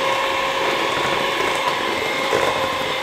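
An electric mixer whisks cake batter for steamed Dalmatian sponge cake at low speed, giving a steady, even motor whir that runs unbroken and fairly loud, with no talking.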